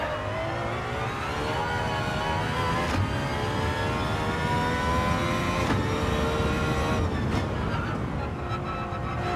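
The Aston Martin Valkyrie's engine in Gran Turismo 7 holds a loud, steady high-pitched howl for the whole stretch, with harmonics that rise and dip through brief gear-change breaks as the car pulls hard on throttle.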